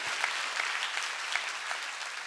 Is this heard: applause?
yes